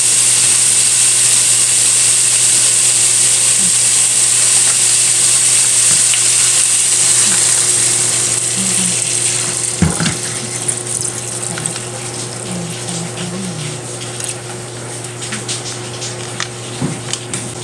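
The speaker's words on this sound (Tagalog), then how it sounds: "Sabawan na po natin yan." Broth poured into a simmering crab stew (alimasag) with vegetables; a steady rushing pour and sizzle over a constant stove hum, easing off partway through into quieter bubbling with occasional clinks.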